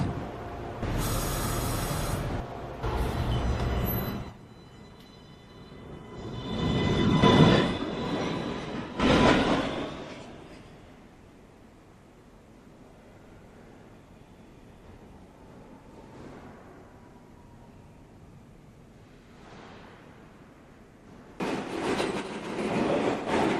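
A Manhattan-bound NYC subway 1 train pulls away from the station. The departure starts loud with a rush and wheel noise, then settles into a quieter rumble, and a loud burst of noise returns at the end.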